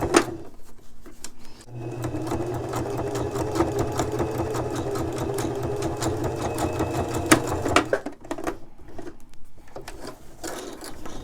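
A sewing machine runs a straight stitch across a man's dress shirt cuff, a steady close mechanical whir lasting several seconds with a quieter pause before and after.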